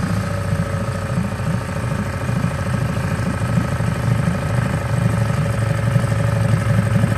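The engine of a Beneteau First 21.7 compact sailing yacht idles while warming up after starting, a close, steady, even chugging drone with no change in pace.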